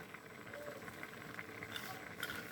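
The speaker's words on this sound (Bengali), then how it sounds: "আমার রান্নাটা কি সুন্দর ফুটতেছে বন্ধুরা, দেখুন" Pumpkin stalk curry simmers in a pot. A soft, steady bubbling patter with faint crackles runs close and quiet throughout, with no voice over it.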